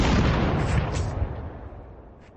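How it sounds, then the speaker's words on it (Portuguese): One heavy, booming shot rings out at the start, its roar slowly decaying into a fading echo over a couple of seconds. "Um único disparo."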